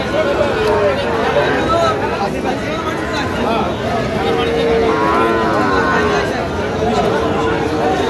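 At a cattle market in the rain, Sahiwal cattle moo amid a steady crowd babble and rainfall noise, with someone talking nearby over the constant din.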